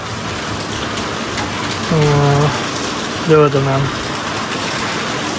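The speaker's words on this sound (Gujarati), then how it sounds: "વરસાદ હજી ચાલુ જ છે." Heavy rain pours down in a steady, dense hiss throughout in Rajkot, while someone speaks briefly twice beneath it.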